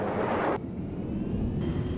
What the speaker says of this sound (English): Take the transport helicopter.